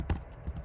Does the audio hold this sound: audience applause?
no